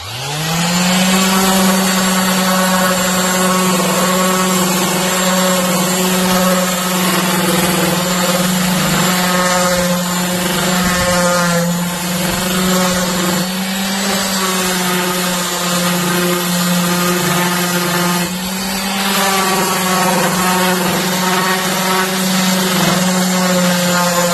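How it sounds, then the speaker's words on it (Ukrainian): A loud, continuous orbital sander buzz on wooden boards, a steady droning hum slightly wavering in pitch, carrying on without a break. "круговою шліфмашинкою шліфуємо всю площину"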